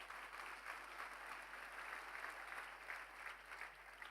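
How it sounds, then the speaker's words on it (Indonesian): A church congregation applauds during a sermon, a faint, continuous wash of many hands clapping heard from a distance over a low hum. "Tepuk tangan buat mereka semua."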